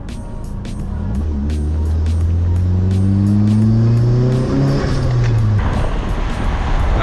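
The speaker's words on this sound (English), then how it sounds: "we're gonna take it out for a test drive right now" A Nissan 240SX with a new clutch on a test drive, heard from nearby as the engine climbs through rising revs, shifts, and pulls again with a loud steady drone and no talk.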